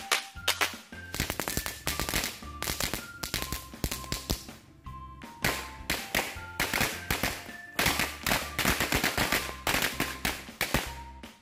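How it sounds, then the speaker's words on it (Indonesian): An original Color Smoke firecracker crackles in a long, rapid string of loud sharp pops and bangs, bursting almost continuously with brief pauses, close and alone with no voices. "yang pertama kita nyalakan mercon Color Smoke original"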